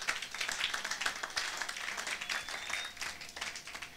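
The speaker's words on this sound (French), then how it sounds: "Acclamons pour la gloire de notre Dieu." A church congregation applauds together in steady, dense clapping that fills the whole stretch at a moderate distance, with no talking over it.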